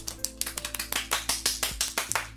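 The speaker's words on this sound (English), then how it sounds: "Golf clap. Golf clap." A small group gives a slow, deliberate golf clap, roughly a dozen distinct claps spaced evenly over a couple of seconds, close and moderately loud with no talking.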